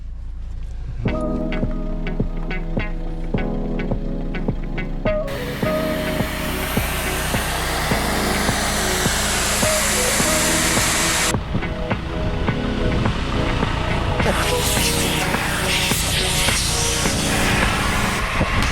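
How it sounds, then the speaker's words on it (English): Air hissing steadily out of tyres being deflated for a campsite track, a broad continuous rush that stops and restarts in loud sections. "We're going to let our tyres down."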